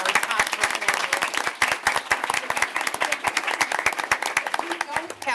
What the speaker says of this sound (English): give her a round of applause for being our top performer